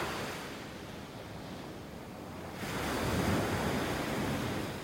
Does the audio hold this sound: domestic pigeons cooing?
no